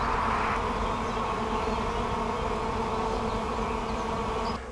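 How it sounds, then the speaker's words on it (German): A swarm of aggressive bees buzzing around their hive, a dense, steady drone up close that holds for several seconds before easing slightly at the end. "Da summen sie rum, die Bienen."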